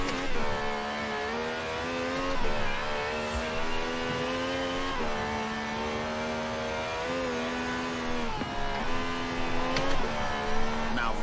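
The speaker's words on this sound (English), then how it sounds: "This has a V12 with over 750 horsepower." A V12 engine of over 750 horsepower revs hard in Forza Horizon 4, its loud, steady tonal whine rising through the gears, with brief dips at the shifts, over about eleven seconds with no talk.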